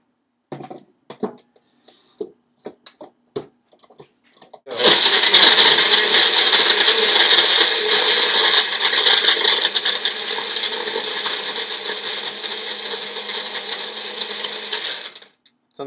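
A Magic Bullet blender crushing ice and strawberries for a protein shake: a few scattered clicks and knocks, then a loud, steady grinding whir that runs for about eleven seconds before cutting off.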